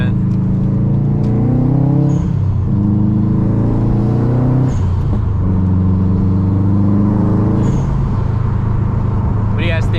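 A Stage 2+ Subaru WRX STI engine with a loud exhaust revs up repeatedly, climbing in pitch then dropping off, with sharp pops and a turbo blow-off hiss between revs, and voices nearby.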